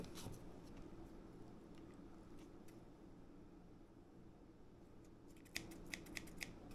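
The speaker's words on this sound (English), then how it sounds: "Now you can use a knife. I just find scissors to be easier." Scissors cut raw chicken livers in a kitchen with faint, quiet snips and a few sharper clicks near the end over a low background hum.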